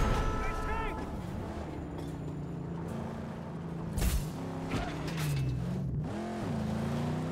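Car engine in the Mad Max video game, holding a steady droning growl with shifting pitch throughout, a voice speaking over it.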